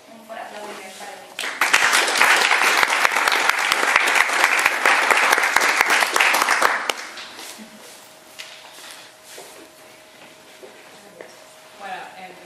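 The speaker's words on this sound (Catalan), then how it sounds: "Un fort aplaudiment per a mi." Dense, loud audience applause at a talk about Montgat's traditional sung fish auction, a thick wash of many hands that starts abruptly, holds for about five seconds and then cuts off, leaving quieter room noise and a faint steady tone.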